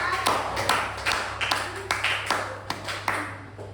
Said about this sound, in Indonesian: Boleh tepuk tangan dulu buat kita dong